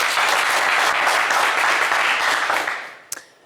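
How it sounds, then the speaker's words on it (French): A studio audience on a French-language television game show gives loud, sustained applause that fades out quickly near the end, followed by a single sharp knock. "on vous applaudit."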